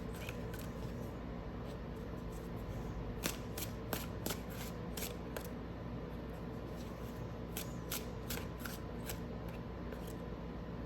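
Tarot cards shuffled and drawn during a reading: soft, steady riffling and sliding with a handful of sharper card snaps, close and quiet, and no talking.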